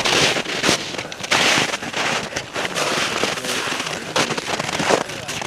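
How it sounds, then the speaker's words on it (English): Tinder bundles burning outdoors at a winter survival class, giving loud, close crackling and popping bursts over steady wind rumble. "Couple tinder bundles on fire."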